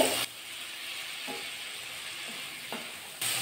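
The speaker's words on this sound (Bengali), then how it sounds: "সবজি দিয়ে মশলাটা দিয়ে ভালো করে কষিয়ে নিয়েছি।" Drumstick (sojne data) vegetables frying with spice paste in a pan give a steady broadband sizzle, with a few faint stirring scrapes throughout.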